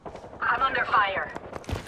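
A short, muffled burst of rapid gunfire in Apex Legends rattles at moderate volume under a voice speaking over it.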